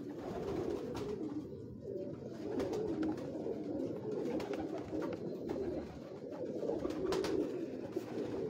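Pale-coloured, clean-bodied purebred pigeons coo in a soft, continuous chorus on a Lahore rooftop, several birds murmuring close together with a few faint clicks and no voices.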